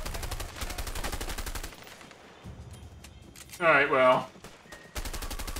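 Enemy gunfire in the video game A Way Out, bursts of rapid shots at the start and end with quieter stretches between, while people talk over it.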